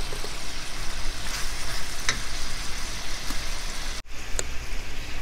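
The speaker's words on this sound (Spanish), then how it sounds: "aquí se va a estar sellando y cociendo a la misma vez con sus juguitos" Chicken sears in a pan while cooking for chicken in adobo, giving a dense, continuous crackling sizzle like rain on a surface, loud and close, with one abrupt momentary drop partway through.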